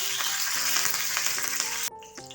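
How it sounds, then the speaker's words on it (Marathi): Mustard seeds, cumin and curry leaves crackle and sizzle loudly in hot oil for about two seconds before the sound cuts off abruptly, with no voices. "आणि मोहरीचा वापर करत आहे त्यानंतर आमच्या घरी उगवलेला कढीपत्ता आहे तो पण मी टाकत आहे"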